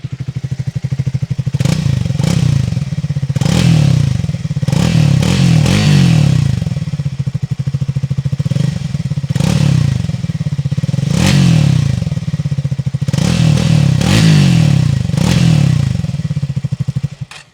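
A Triumph Speed 400 motorcycle engine idles with a steady low beat and is revved repeatedly in short, rising bursts, close and loud, with no talking.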